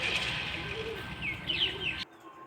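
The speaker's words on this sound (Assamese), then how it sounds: "কুলিৰ মাত শুনি আছোঁ" An Asian koel calls in a children's park in Dibrugarh, a few bright repeated notes sounding over a soft outdoor background before cutting off abruptly.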